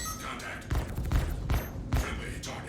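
Spaceship guns firing at a target in Star Citizen, a few heavy thudding bursts spaced about half a second apart, loud and close under steady engine hum with a voice talking over them.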